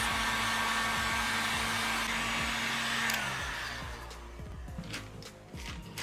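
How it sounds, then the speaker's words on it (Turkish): Hair dryer blowing hot air to dry freshly painted motorcycle equipment, a steady close whirring hum that fades partway through, followed by scattered handling clicks and taps. "saç kurutma makinesiyle ya da sıcak hava neyle verebiliyorsanız bu şekilde kurutuyoruz"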